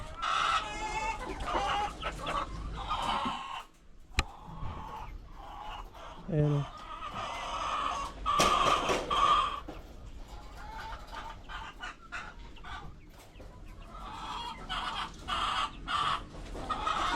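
Chickens cluck and squawk repeatedly, with a rooster crow mixed in, while a person talks in Filipino over the farmyard noise.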